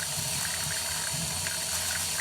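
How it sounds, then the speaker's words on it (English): Tap water running steadily into a drain, a close, continuous hissing wash with a faint trickling rattle and no breaks; nobody speaks. "I'm going to turn the water on so that the water's already flowing"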